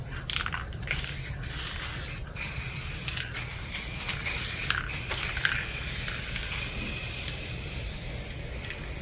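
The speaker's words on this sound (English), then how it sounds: "I will spray it with Cherry Blossom." Spray paint in Cherry Blossom color hissing steadily onto a canvas, a loud continuous close spray broken by a few brief pauses near the start.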